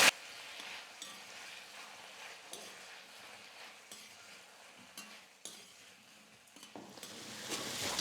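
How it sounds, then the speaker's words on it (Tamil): Raw plantain sautés in hot oil with curry leaves, a steady soft sizzle and frying hiss with occasional scraping stirs against the pan, moderately close with no talking. "வாழைக்காய் சேர்த்ததுக்கப்புறமா ஒரு 2லிருந்து 3 நிமிஷத்துக்கு நல்லா எண்ணெயிலே வதக்கிக்கலாம்."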